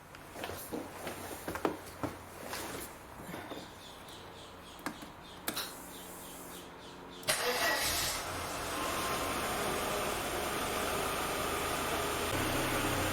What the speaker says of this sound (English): let's just see how the car starts